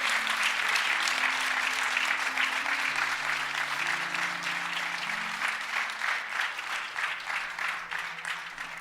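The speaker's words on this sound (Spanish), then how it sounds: "Podemos dar una ofrenda de aplausos." A church congregation gives an offering of applause after a sermon, loud sustained clapping from many hands over soft sustained keyboard chords, gradually thinning toward the end.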